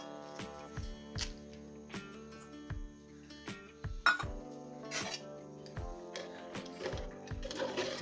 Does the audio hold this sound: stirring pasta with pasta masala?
yes